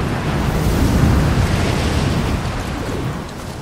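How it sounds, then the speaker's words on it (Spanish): A strong gale roars across a mountain summit in Rise of the Tomb Raider, a loud, steady rush of buffeting wind that fills the whole stretch without a break. "¡Vaya ventarrón!"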